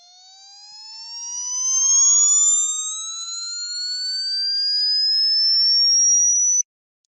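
Simulated electric motor sound in its baseline condition with no eccentricity, a clean whine of a few stacked tones rising steadily in pitch as it speeds up, loud and alone, ending abruptly.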